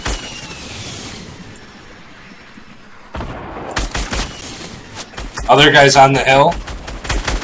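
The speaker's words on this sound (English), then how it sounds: "He's trying to shoot some of our stuff down." Gunfire in the video game Fortnite, a few sharp shots and bursts after a quieter stretch, mixed with game effects while players talk over it.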